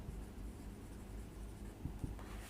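Pen scratching across paper while a math proof is written out by hand, soft continuous strokes with a couple of small taps, quiet and close with no talk.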